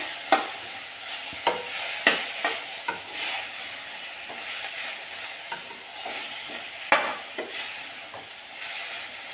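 Egg curry masala with tomato frying in a pan, a steady hiss of sizzling broken by repeated sharp scrapes and clinks of a spoon stirring at irregular intervals, close and moderately loud with no voices.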